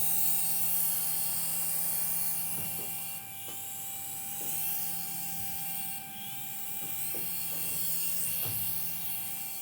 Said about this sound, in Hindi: चलो अब दोनों हेलीकॉप्टर ऑन करते हैं